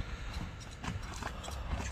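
Hooves of a horse being sold as an ulak riding horse, clip-clopping faintly in a quick, steady ambling rhythm at some distance, with no talking.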